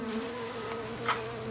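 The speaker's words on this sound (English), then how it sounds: "450 buzzing hives from North Dakota to California for the winter." Honey bee hives, hundreds of them loaded for trucking from North Dakota to California for winter, give off a steady insect buzz with a low drone and one brief louder swell near the end.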